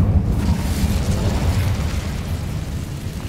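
A fire spell cast in a Hogwarts wizarding video game erupts as a loud, sustained roaring burst with low rumbling crackle, filling the whole moment without any voice.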